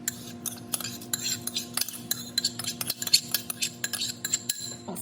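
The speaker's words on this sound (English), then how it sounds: "Stir that up." A spoon scrapes and clinks against a cooking pot as rice is stirred into boiling water for arroz con pollo, with irregular close metallic taps and scrapes over a faint steady hum.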